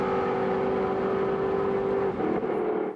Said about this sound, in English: look at this top end charge from the ASG Motorsport Twin Turbo Tirana